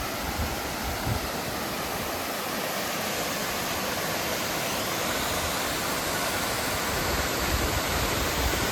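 Mountain stream on a hiking trail in the Presidential Range, a loud, steady broadband rush of flowing water close by that stays constant for several seconds with no voices.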